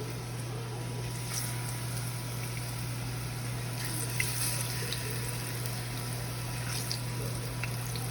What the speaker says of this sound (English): Add our plantains to the oil.